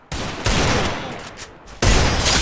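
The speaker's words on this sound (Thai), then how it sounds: "กระโดดยิงไม่โดน" Gunfire in the video game Free Fire, a dense sustained burst of rapid shots filling the clip, loud and continuous with brief dips, with no talk over it.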